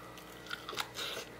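Someone bites and chews freshly fried chicken with thin, crispy skin, giving close, moist crunching and munching sounds, loud over the whole moment with no talk.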